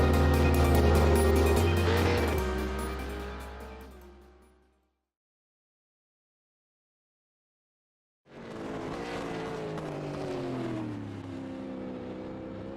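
V8 supercar racing around Bathurst in the iRacing game, a loud engine roar with shifting pitch that fades out to silence, then returns strongly for the last few seconds.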